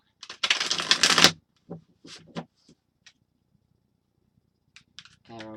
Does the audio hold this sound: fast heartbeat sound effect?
no